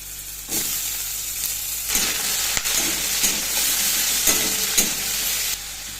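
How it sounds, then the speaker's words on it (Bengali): Bottle gourd, bay leaf and dried chilli fry in a pan with a loud, steady sizzle, while a spoon stirs through it with intermittent scraping sounds. "তেজপাতা আর শুকনো লঙ্কা দিয়ে দিচ্ছি, লাউটা দিয়ে দিচ্ছি।"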